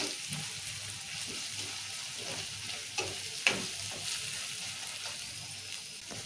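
Ginger sizzling steadily in hot oil for a potato curry, with a few faint stirring clinks over the constant frying hiss.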